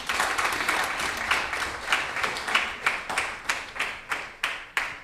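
A temple audience at a festival Sunday feast applauds: many hands clapping at first, thinning into a few loud, spaced claps that ring out alone as the applause dies down.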